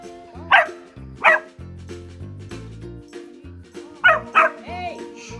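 Shiba Inu dogs chase each other on Hawaii's Big Island, letting out four sharp, close barks in two pairs separated by a lull, with quieter whines and yips between them.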